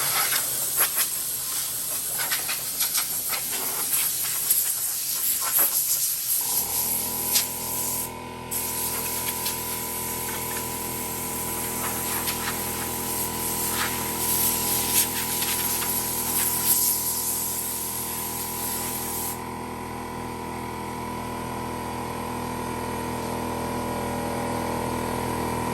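An old pancake air compressor blows a steady, loud hiss of air that runs for the whole stretch, with a motor hum coming in partway through and holding on underneath.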